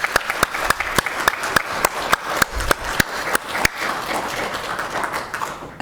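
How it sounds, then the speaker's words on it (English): Sparse, uneven clapping from a small audience at a 2025 candidate forum, with individual sharp claps standing out over a soft wash of applause that fades toward the end. "How about a round of applause for all of our candidates today?"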